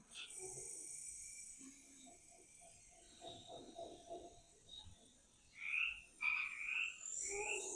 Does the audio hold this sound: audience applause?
no